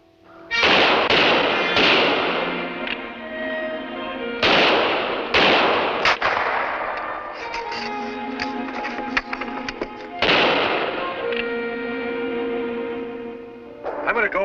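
Rifle fire in a battle scene, several loud sharp shots spaced a few seconds apart, each with a thudding blast and a long ringing tail.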